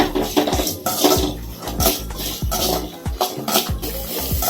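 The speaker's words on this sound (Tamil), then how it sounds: "குடமிளகா போட்டு வதக்கணும்" Capsicum and onion sautéing in a pan for capsicum chutney: a rhythmic series of spatula scrapes and clanks against the pan, repeating every half second or so over a continuous sizzle.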